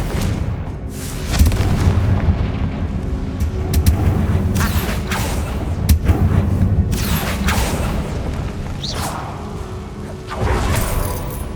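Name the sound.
Bombarda and Confringo spell explosions in Hogwarts Legacy video game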